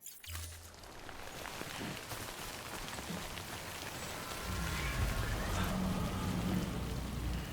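Timefall rain in Death Stranding falls steadily in a dense, hissing patter on surfaces, thickening into a heavier downpour partway through, close and continuous with no voices.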